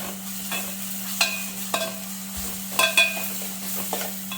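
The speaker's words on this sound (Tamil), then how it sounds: "வெங்காயம் வதங்கிறதுக்கு தேவையான உப்பு போட்டிங்கன்னா கொஞ்சம் சீக்கிரம் வதங்க ஆரம்பிச்சிடும்" Salted onions sauté in a pan for Chettinad chicken gravy, with a faint steady sizzle under soft, scattered scrapes of a spoon stirring close by.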